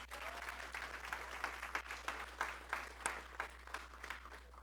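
Congregation applause during a church sermon, a faint burst of clapping with scattered sharp claps over a low steady hum, fairly distant and brief.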